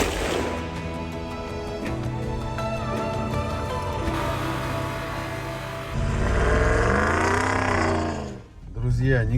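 Quad bike engine running in the field on a hunting trip, a loud, continuous motor drone whose pitch shifts and rises as it revs, with people talking over it before it cuts out near the end.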